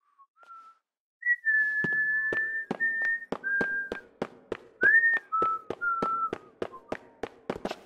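Characters in Deadly Premonition 2 whistle a tune as a clear run of sustained melodic notes, while sharp, evenly spaced tapping knocks sound along with the melody.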